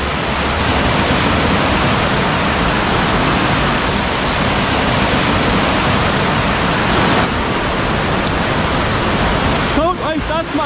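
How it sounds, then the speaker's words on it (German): Loud, constant roar of a creek in flood turned to whitewater after heavy rain, a dense churning rush that fills the whole clip, with faint bird chirps near the end. "Das ist ja richtiges Wildwasser hier"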